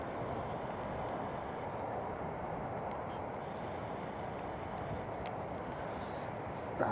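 Emirates Airbus A350 jet airliner on its takeoff run at Newcastle International Airport, a broad, steady engine roar heard from a distance that stays level throughout, with no talking.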